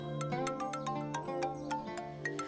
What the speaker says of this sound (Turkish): benim telefonum çalıyor da arkadaş arıyor.